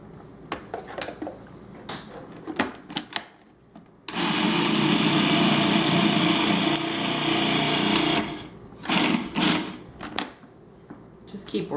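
A blender pulsing carrot hummus: a loud, steady motor whir that runs for about four seconds, framed by short bursts and clatter of stopping and stirring, with a voice talking before and after the run.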